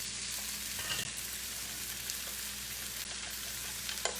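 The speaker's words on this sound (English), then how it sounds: "Let me get my fiddleheads going" Fiddleheads frying in a pan: a continuous soft, even sizzle with a few faint crackles and stirring ticks, close by but fairly quiet, with no talk.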